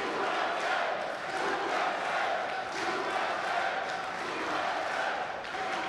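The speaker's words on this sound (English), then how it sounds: "Not very often at a World Championships you'll hear a crowd chanting USA, USA." A large crowd at a table tennis world championships match chants rhythmically in loud, repeated swells, a dense mass of voices filling the hall for six seconds.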